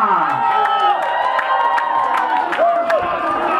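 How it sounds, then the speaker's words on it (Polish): An outdoor May festival crowd cheers and applauds for about three and a half seconds, a dense wash of clapping and shouts under which an announcer's voice keeps calling out. "Brawo, gdzie są brawa dla pana Bogdana?"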